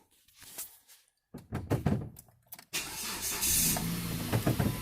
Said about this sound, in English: Okay, so now I'll start it up.